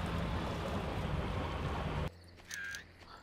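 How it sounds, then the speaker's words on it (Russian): A motorboat engine in the Far Cry video game drones with a broad, rumbling wash of water and motor noise for about two seconds, then cuts abruptly to near quiet with a brief tonal blip. "Там где-то катер."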